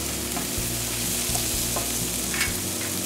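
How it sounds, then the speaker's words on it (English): Mushrooms and onions fry in a pan, a continuous close sizzle broken by soft scraping and stirring knocks, with no voices. "Make sure to stir your mushrooms and onions so that they don't stick to the pan."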